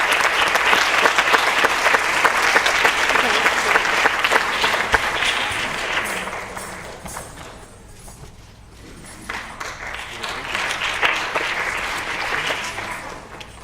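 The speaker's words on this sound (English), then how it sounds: "a big round of applause" Audience at a dance performance applauding, a loud dense round of clapping that fades into a short lull, then swells again with renewed clapping and scattered cheers.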